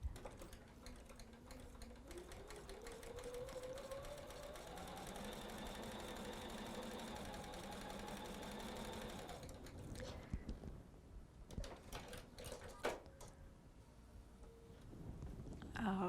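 Sewing machine stitching fabric for a quilted wreath block, a close, steady rapid needle chatter running for several seconds before stopping, followed by scattered clicks and handling noises.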